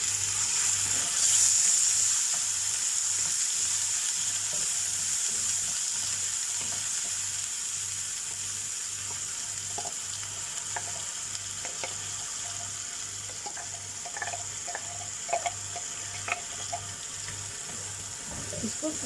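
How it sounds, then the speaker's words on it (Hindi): Ground onion frying in a pan for prawn masala, a steady close sizzle running throughout with a low regular hum beneath and occasional small stirring clicks. "इसको फ्राई करेंगे जब तक ओनियन का स्मेल फिनिश ना हो जाए"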